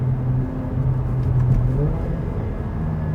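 A Mercedes-AMG CLA 45 coupé, a 381 hp car, taken through a corner at speed, its engine a steady low rumble and drone throughout, close and moderately loud, with brief talk over it.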